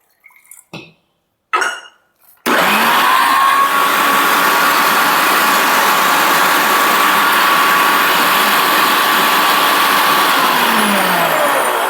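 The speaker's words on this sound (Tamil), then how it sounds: "இப்போ கொஞ்சம் தண்ணி சேர்த்துட்டு அரைக்கிறேன்" A mixer grinder blending amla with a little water: a couple of short knocks, then a sudden loud, constant motor whine and churning that holds close and steady to the end.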